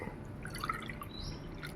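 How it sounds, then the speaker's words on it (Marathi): Water poured from a small bowl into a pot, a cupful at a time, to make sugar syrup for gulab jamun; a faint, quiet dripping and trickling with no talk. "त्याच वाटीने आता आपण 3 वाट्या पाणी घेऊया."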